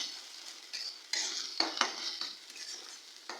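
Ground spice paste sizzling softly in a pan while being stirred with a utensil for a pangas fish curry, with scraping strokes heard close and fairly faint.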